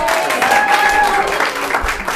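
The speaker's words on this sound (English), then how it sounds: "Give her a round of applause." Audience applause at an improv comedy show, a dense wash of many hands clapping, loud and sustained, with a few voices and a whistle-like tone mixed in.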